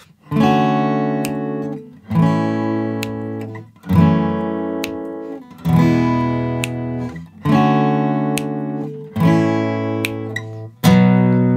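Strummed guitar chords ring out in six even phrases, each struck firmly and left to decay, played alone and close up: the introduction of a song.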